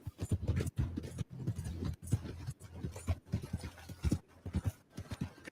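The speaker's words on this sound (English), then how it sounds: "All I'm doing is riding my horse." Horse hooves clip-clopping as a horse is ridden in a video game, a quick uneven rhythm of close, distinct hoof strikes with brief pauses, heard alone without talk.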